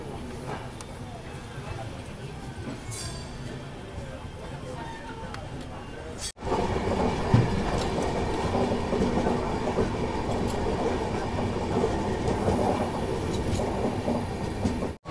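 The Ranthambhore SF Express rolls out of Sawai Madhopur station on its Jodhpur–Indore run, a steady rumble and clatter of wheels on rails that grows sharply louder midway and continues densely to the end.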